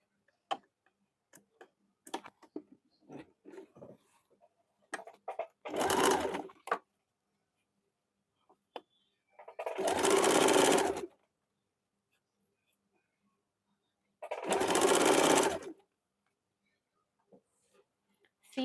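A sewing machine stitches a narrow seam near the cuff of a men's short kurta sleeve, in three loud bursts of rapid whirring stitching with quiet handling taps between them.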